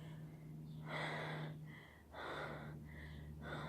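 A person imitates breathless, short-of-breath breathing in a series of strained, rasping breaths, about three loud bursts in a row, with no speech.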